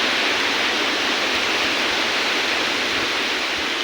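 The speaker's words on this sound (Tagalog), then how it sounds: "lakas ng hangin guys" Strong typhoon wind (Typhoon Opong) roaring steadily through trees in Mindoro, a dense, unbroken rushing noise that stays loud for the whole stretch with no voices over it.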